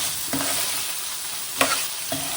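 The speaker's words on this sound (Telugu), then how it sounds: "గుమ్మగుమ్మలాడుతా తాలింపు పెడతాను, చూడండి రండి." Tempering for mango dal sizzles steadily in a hot pan, a loud continuous frying hiss with a few brief stirring clatters, no voices.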